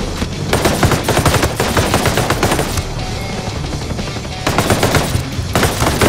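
Bursts of rapid automatic gunfire from the video game Ghost Recon Breakpoint rattle loudly in several long volleys with a short lull between them, dense and close, with no talking.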